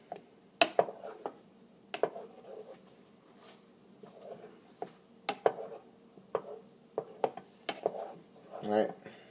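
A spoon scrapes and clinks against a pot while Pepsi and butter are stirred together for a Pepsi cake, giving a run of sharp, uneven taps and scrapes over a quiet kitchen background.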